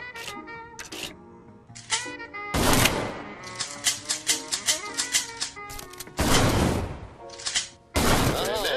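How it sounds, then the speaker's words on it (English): A shotgun fires flaming shots at targets in a video game, making loud blasts with a quick run of sharp, rhythmic shots between them and big booming bursts near the end. "Now shoot down the rest of those targets with flaming shots."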